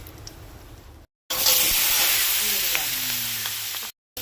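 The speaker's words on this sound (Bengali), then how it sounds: "এবার ফোড়ন দেব। ফোড়ন দাও। শুকনো লঙ্কা," Dry red chillies and nigella seeds hit hot oil for a fish curry tempering, bursting into a loud, steady sizzling hiss right after a brief silence and holding close and bright for a few seconds before cutting off.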